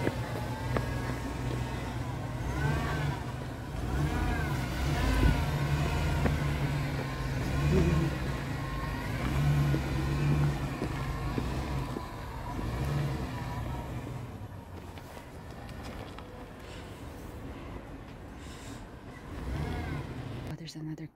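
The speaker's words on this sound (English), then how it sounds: "There's another car coming." A car rolls slowly past near the Shrine Drive-Thru Tree, a low steady engine and tire rumble that swells and then fades, with people talking over it.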